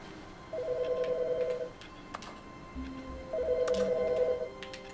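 A telephone rings in an office in The Stanley Parable, two electronic trilling bursts about a second long each with a gap between them, plus a lower tone and faint clicks underneath.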